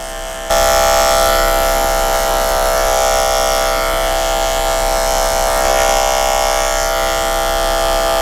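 Hair clippers buzz through a skin fade haircut, starting abruptly and then holding a loud, steady electric hum close to the ear for several seconds, with no talking.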